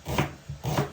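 Two quick knife strokes on a cutting board as an onion is finely chopped, close and dry, evenly spaced within a second.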